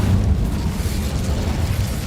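A Hogwarts Legacy Incendio fire spell lets out a dull, booming blast that rumbles low and steady for about two seconds, with nothing else over it.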